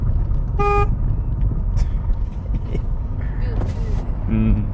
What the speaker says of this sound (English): Do you want to use your horn a little bit?